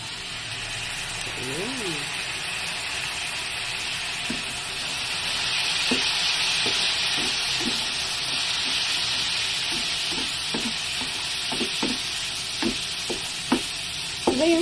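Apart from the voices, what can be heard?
soy sauce added to sizzling honey garlic chicken in pan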